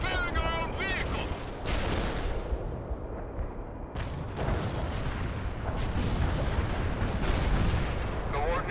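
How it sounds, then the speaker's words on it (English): Artillery fires in the video game World in Conflict, with heavy booms and gunfire continuing throughout, loud and dense, and a voice briefly audible early on. "Artillery firing."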